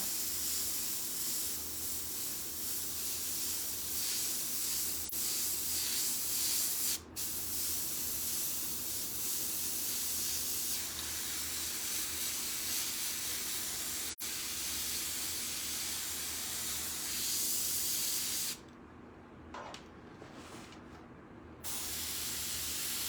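Airbrush spraying white paint onto a hoodie gives a steady, close hiss that runs almost unbroken, then stops and starts in short bursts near the end.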